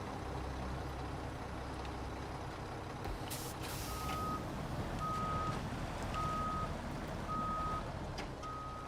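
A truck idles and rumbles in the SnowRunner off-road game while an air brake hisses sharply, followed by a steady series of evenly spaced reversing beeps over the engine drone, with no one talking.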